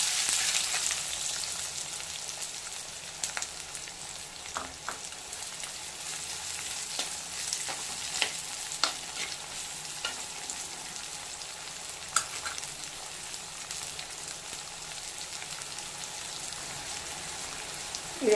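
Chopped onions dropped into hot oil with whole spices for a Tamil mutton drumstick curry sizzle and crackle steadily, a dense close hiss with small pops and stirring scrapes throughout, no voices.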